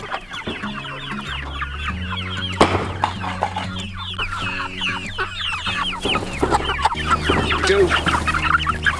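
Chickens clucking inside a chicken tractor on a homestead, a busy overlapping chorus of close, repeated clucks and squawks with occasional wing rustles and low background hum.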